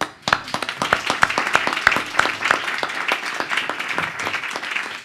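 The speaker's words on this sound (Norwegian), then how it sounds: "Applaus." An audience at a Norwegian panel debate during Arendalsuka applauds with dense, steady clapping that carries on throughout, with some distinct nearby claps standing out.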